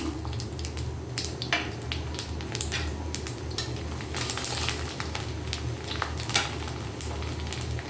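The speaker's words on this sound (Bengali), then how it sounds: "এখানে আমি দুইটা শুকনো মরিচ সরিষা এবং কালো জিরা এটা আমি দিয়ে দিব একটা ফোড়ন দিয়ে নিব রসুন কুচি দিয়ে দিলাম" Dried chillies, mustard seed, nigella seed and chopped garlic sizzle steadily in hot oil for a Bengali tempering, a continuous close frying hiss with occasional stirring clinks and scrapes throughout.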